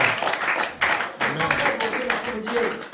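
A church congregation breaks into applause, a dense crowd of hands clapping steadily, loud and close, with voices calling out over the clapping.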